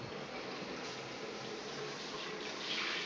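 Water runs steadily from a newly installed shower fixture with diverter and transfer valve trims, a constant broadband hiss that holds even throughout and swells slightly near the end, with no voices.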